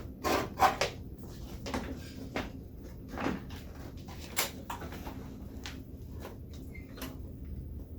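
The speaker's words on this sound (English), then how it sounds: "That way I'm able to move the footrests back." Wheelchair footrests being swung back in a clinical lab, heard as scattered faint clicks, knocks and clunks of metal and plastic over several seconds, close by with low room noise and no talk.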